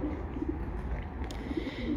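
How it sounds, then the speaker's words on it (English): Pigeons in a loft give off a soft, low, continuous cooing murmur, with a few slightly louder coos rising out of a steady background hum. "you can watch the birds in the loft without me"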